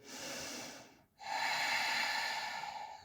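Deep yoga breathing heard close up: a steady airy breath, a short pause, then a long, strong nasal inhale that carries on to the end.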